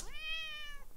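A single drawn-out cat meow rising then holding steady before fading, close and clear with no talk over it.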